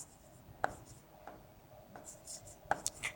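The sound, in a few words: writing by hand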